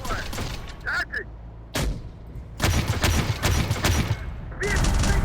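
Rapid bursts of gunfire batter a vehicle in Terminator: Dark Fate - Defiance, with clattering impacts coming in uneven volleys amid a loud, busy battle mix and scattered radio-style voices.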